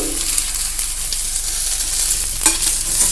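Fried potatoes with their frying oil are stirred into a pan of spiced chicken curry, giving a steady close sizzle with scraping stir strokes and a louder clatter near the end.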